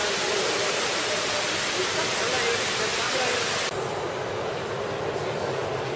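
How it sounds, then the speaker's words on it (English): A steady, loud rush of falling water from an indoor waterfall in a Dubai mall fills the space, broad and continuous, easing slightly partway through. "Inside, there's a fairly impressive waterfall."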